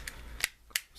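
Quick plastic clicks as a part of a Transformers Bruticus toy snaps into place, a faint tick followed by two sharper, close clicks about a third of a second apart.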